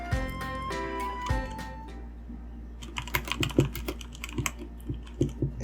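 Typing on a Red Dragon Fizz compact computer keyboard, an irregular run of close, crisp key clicks that thins out midway and then returns in denser bursts. No one speaks.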